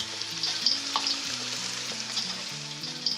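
Chicken koftas frying five at a time in a pan, a steady close sizzle with faint bubbling and crackle, no talking.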